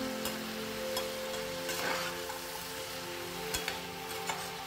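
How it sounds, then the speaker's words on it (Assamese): Chicken pieces stir-fry in a hot pan, giving a steady soft sizzle with occasional scrapes of stirring, alone without talk. "এনেকৈ লৰাই লৰাই 4-5 মিনিটমান মই মাংসখিনি ভালদৰে ভাজি থাকিলোঁ।"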